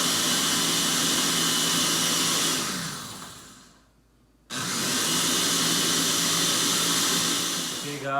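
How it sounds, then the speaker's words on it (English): A Ninja blender whirs loudly and steadily through a smoothie, cutting out briefly for about two seconds before roaring back at full power, with no talking over it. "with my blender, because I'm naughty, I got the nice Ninja, the well-known blender."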